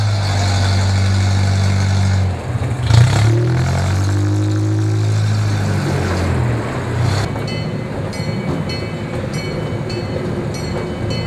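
A heavy car engine rumbles loudly throughout, its pitch sliding up as it revs early on, then settling into a rough, steady drone with some rattling.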